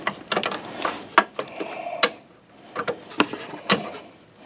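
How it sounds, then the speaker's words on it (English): Flare nut wrench working on brake line nuts at the master cylinder of a 2006 Chevy Silverado, a close series of irregular metallic clicks and clanks with short scraping bits in between, spaced unevenly over a few seconds. "we're going to use the same flare nut wrench and see if we can get it on there and break those free"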